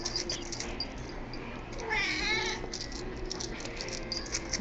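A young cat gives a drawn-out meow near the microphone, a single wavering call rising above low background noise, with no talking over it.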